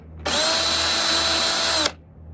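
A power drill countersinking a hole in a wooden walking stick, one steady high whine lasting under two seconds that starts and stops abruptly, close and loud.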